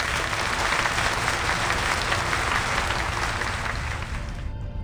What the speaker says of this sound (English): His audience responds with a round of applause